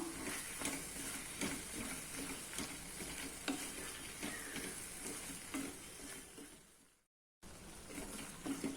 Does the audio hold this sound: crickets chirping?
no